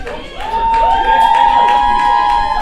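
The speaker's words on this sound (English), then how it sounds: "Victoria getting good cheers from a crowd." A crowd of family and friends cheers and shouts steadily at a women's T20 cricket match between Gibraltar and Estonia, with a sustained high whistle-like tone running through the lively, close crowd noise.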